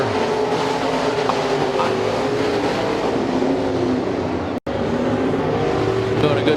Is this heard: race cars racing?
yes